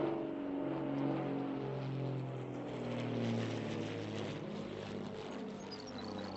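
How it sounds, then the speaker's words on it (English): A propeller airplane flying in to land, a steady droning engine hum with layered harmonic tones that swells and recedes slightly, heard alone without voices. "See that airplane? It's coming in here"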